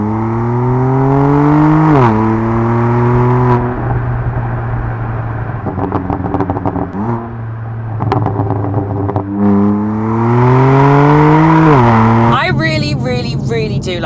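Heard from outside, a BMW M2 Competition engine revs loudly and close by in a series of rising and falling sweeps with quick blips between them, ending in a sharp climbing rev.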